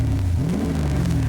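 Kit car engine revving up and settling, a steady mid-pitched engine note with a rising sweep, loud and close with no talk over it.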